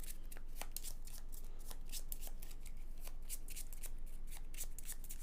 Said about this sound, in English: And now the Automata is going to shuffle its deck.